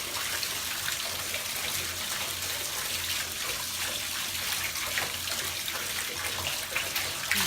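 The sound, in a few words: bath bomb crumbled under bath water, bubbling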